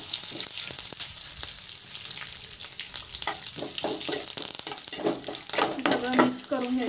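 Curry leaves and mustard seeds fry in hot oil over a low gas flame, a steady close sizzle with scattered crackles and pops that grow livelier toward the end, along with faint clinks of a pan.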